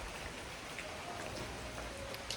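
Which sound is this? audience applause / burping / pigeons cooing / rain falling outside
rain falling outside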